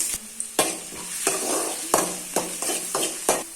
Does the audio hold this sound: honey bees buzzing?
no